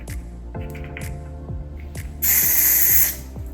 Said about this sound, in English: You can spray it into the cover.